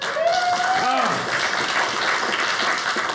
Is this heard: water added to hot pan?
no